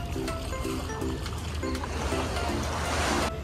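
Sea waves washing near the shore at El Nido, a steady broadband rush of water under a constant low boat-engine hum, with faint voices in the background.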